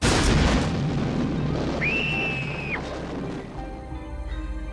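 A loud boom opens a dramatised reconstruction of an explosion, followed by a fading rumble and debris noise, with a brief whistling tone ringing out midway before a lower, quieter rumble at the end.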